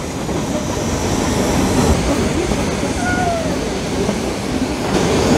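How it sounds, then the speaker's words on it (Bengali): A small mountain train pulling five coaches rolls through hillside tea gardens, a steady close rumble of wheels and carriages with a faint squeal rising briefly midway. "টোটাল 5টা বগি নিয়ে 5টা কোচ নিয়ে চলা এই ট্রেন পাহাড় থেকে শুরু করে চা বাগান আর এই টার্নিংগুলো পেরিয়ে এগিয়ে চলেছে"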